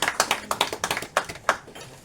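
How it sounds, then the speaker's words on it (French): A small audience at a Parisian literary café gives a brief round of scattered, uneven hand claps, a dozen or so distinct claps over about two seconds. "On peut applaudir."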